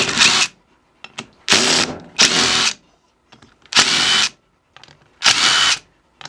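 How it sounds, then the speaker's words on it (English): Power driver spinning out the 10mm bracket bolts on a Subaru JF011E / RE0F10A CVT transmission during a valve body rebuild, heard as four or five loud, separate whirring bursts of about half a second each with short pauses between, close up and with no talk. "So you're going to grab your 10mm and take those bolts out."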